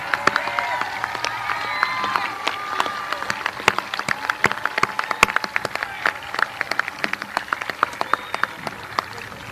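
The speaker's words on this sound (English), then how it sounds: "let's now start giving them another big round of applause for their hard work." Families at Hauppauge Middle School's 2021 moving up ceremony applaud and cheer the graduating class: crisp nearby claps over a busier crowd, with whoops and voices mixed in throughout.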